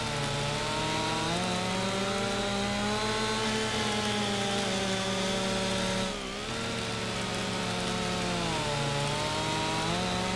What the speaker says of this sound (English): That was me that time on the chainsaw.